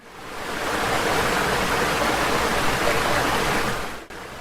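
Flowing river water used as a sound effect in a spoken folk story: a loud, continuous rushing wash that swells in, holds steady, and cuts off abruptly near the end.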